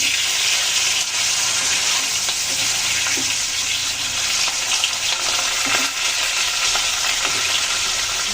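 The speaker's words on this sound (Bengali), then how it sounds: "মাথাটা ভালো করে ভেজে নিলাম, একটু তেলে নিচ্ছি।" A fish head fries in hot oil in a wok, giving a steady, loud, close crackling sizzle that runs the whole way with a few louder pops and spatters and no voices.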